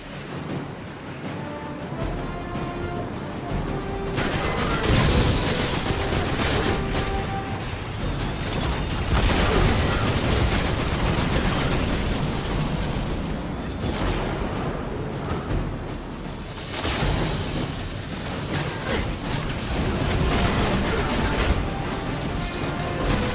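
A giant Cabal cannon fires in Destiny 2's The Witch Queen in a dense, loud stretch of heavy booms, crashing impacts and mechanical rumble that continues without a break, with no voices over it.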